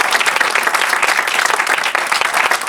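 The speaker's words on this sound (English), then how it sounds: "let's give a big round of applause." Audience applause after a Day of Remembrance presentation, a close, loud burst of many hands clapping continuously without pause.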